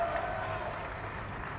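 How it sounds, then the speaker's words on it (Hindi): Crowd at an outdoor political rally in Vidisha clapping steadily and loudly, a dense, continuous wash of applause with no break across the moment. "जोरदार ताली बजाओ"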